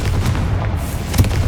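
Confringo blasting spell explosion in Hogwarts Legacy, a continuous low booming rumble with a heavier burst near the end, loud and steady throughout with no speech.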